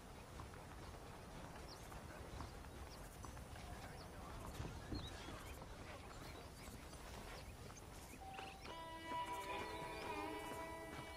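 Steady clip-clop of horse hooves at a walking pace in Red Dead Redemption, moderately close, over a constant ambient bed with faint tonal sounds joining toward the end.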